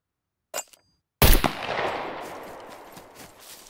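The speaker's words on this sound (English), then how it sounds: "So we're going to shoot over here. We're going to take the suppressor off." Unsuppressed gunshot in the video game Scum: a small click, then one sharp, loud blast with a long, fading echo tail.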